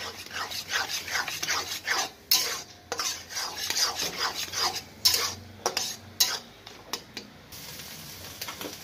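Spatula scraping and stirring chicken mince with beaten eggs in a metal wok, steady irregular rasping strokes with light clinks, close and fairly loud, no talk.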